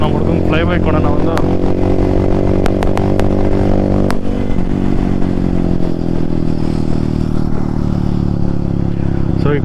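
Hero Xpulse motorcycle fitted with a rally kit exhaust, engine rumbling steadily and loudly nearby with deep harmonic tones and a few clattering ticks, the pitch shifting slightly midway as it revs; voices may be present in the background.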